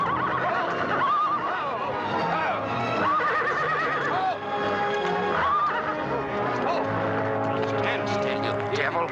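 A horse whinnies several times with rising and falling calls, close and loud over a busy background of music and other sounds.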